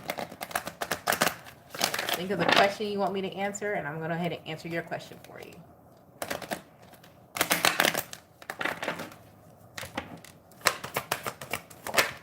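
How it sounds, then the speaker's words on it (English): Tarot cards are shuffled in repeated crisp riffling bursts, close and fairly loud, alternating with someone talking. "I'm going to go ahead and shuffle the cards."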